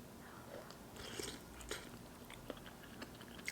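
A kimchi dumpling is bitten and chewed close up in a quiet room, giving soft, irregular crunching and mouth sounds with no talking.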